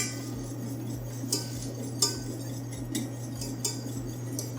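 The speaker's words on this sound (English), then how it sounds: "we want to add those two progressively, then whisk really well at the same time" Sugar and pectin are whisked into a mixture for a French pastry, making soft repeated metal clinks and taps against a bowl at an irregular pace, quiet and alone.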